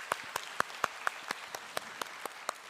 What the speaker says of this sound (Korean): 우리 수고한 모두 드라마 팀에게 다시 한번 박수 부탁드리겠습니다